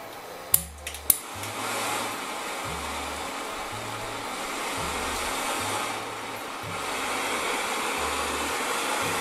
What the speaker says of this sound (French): Et flambage. Donc là on laisse bien flamber.